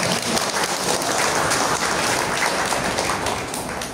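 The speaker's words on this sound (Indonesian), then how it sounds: "Kita bersama-sama sambut dengan tepuk tangan yang meriah." Dense applause from an audience at an Indonesian commemorative discussion event, a steady continuous wash of clapping that holds loud throughout and fades slightly at the end.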